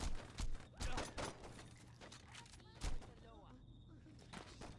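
Several short sharp bursts of machine pistol fire in Saints Row, loud near the start and then sparser, with game sound effects and a voice in the background.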